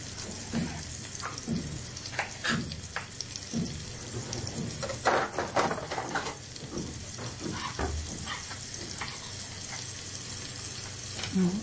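Chopped onions fry in hot oil in a pan, a continuous sizzle with bursts of stirring and scraping, while a person talks faintly over it.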